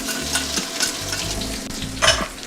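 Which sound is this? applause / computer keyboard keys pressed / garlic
garlic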